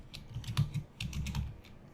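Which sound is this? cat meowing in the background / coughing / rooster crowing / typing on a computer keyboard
typing on a computer keyboard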